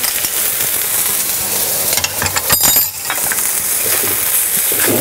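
Steady loud sizzling of garlic and ginger frying in a hot pan, with a brief scrape and clink of a utensil stirring partway through.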